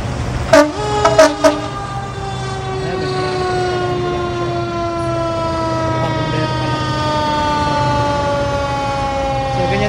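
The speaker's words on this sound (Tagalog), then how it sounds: "So kung papansin nyo, ayan, dalawang bumbero yung dumating." Fire truck sirens wail at an accident scene after a collision, with two fire engines arriving; sustained siren tones sweep steadily throughout, loud and close, opening with a few sharp horn toots.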